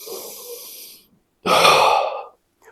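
Deep breathing for the cobra pose, belly or chest breath: a soft, long airy inhale, a short pause, then a louder forceful exhale, close and alone.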